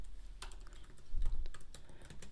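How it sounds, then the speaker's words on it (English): Someone types slowly on a computer keyboard using only the left hand. The key taps are quiet, close and uneven, with brief pauses between clusters. "I'm typing with my left hand, so it's all extra slow right now."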